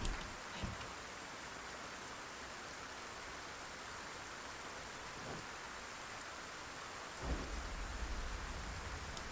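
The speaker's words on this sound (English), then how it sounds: "outside it keeps bouncing between rain and snow" Steady precipitation shifting between rain and snow hisses throughout, with a couple of low distant thunder rumbles partway through.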